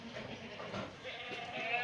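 Black goats bleat faintly on a goat farm in Jiphyeon-myeon, Jinju, mixed with soft farm ambience and people talking nearby.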